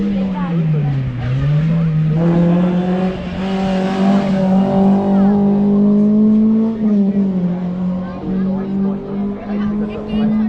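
A race car at the Rechberg hillclimb in 2023 screams past close by, its loud engine note dipping, then climbing and holding high as it accelerates away up the course.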